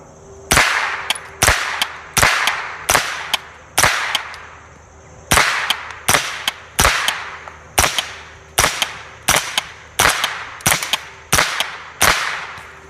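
Sharp, loud gunshots from a Matador Arms Mat9k 9mm roller-delayed pistol at about 10 yards, in quick strings of evenly spaced cracks with short pauses between bursts, each shot trailing off in a brief echo.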